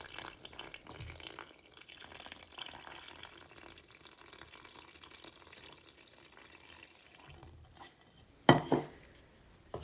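Lukewarm water is poured into a well in bread flour, a faint, steady trickling that runs quietly through most of the stretch before a sharper splash near the end, with no talk.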